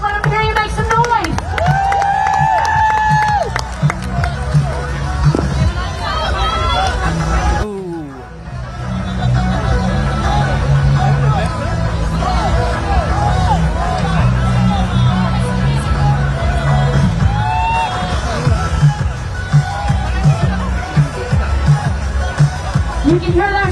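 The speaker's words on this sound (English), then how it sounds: "You can hear them shouting chants of dig, dig, dig, pedal, pedal, pedal, go faster." A crowd cheers on a National Guard team at a fitness event, shouting chants and encouragement in a loud, continuous hubbub of overlapping voices, with a brief dip in the noise before it surges back.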